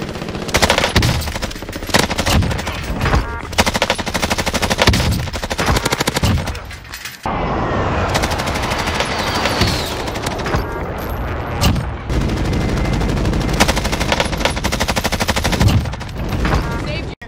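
A Bruen machine gun fires in Call of Duty Warzone, loud repeated automatic bursts with short gaps between strings of shots, plus scattered game effects and occasional voices.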